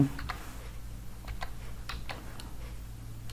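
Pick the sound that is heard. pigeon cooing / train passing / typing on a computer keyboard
typing on a computer keyboard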